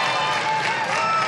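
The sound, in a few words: studio audience applauding on game show Classic Concentration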